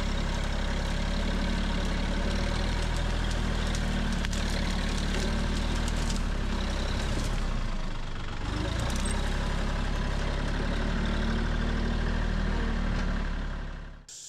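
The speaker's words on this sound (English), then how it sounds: "I'm just gonna push that with the tractor over into the fence line" A tractor engine runs steadily while pushing broken tree debris across a hayfield toward a fence line, a low, continuous rumble that holds at an even level throughout and cuts off abruptly at the end.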